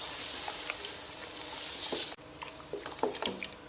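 Chicken being stirred into hot oil and tomatoes in a biryani pot, a loud continuous sizzle with scraping and clinking of the spoon, briefly cutting out, then resuming with sputtering bursts.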